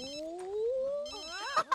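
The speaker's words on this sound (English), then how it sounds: "Okay, I don't want to answer my phone." A phone rings in The Sims 3, a rising warbling electronic tone that slides upward and ends in a couple of sharp chirps, clear and close with no talk.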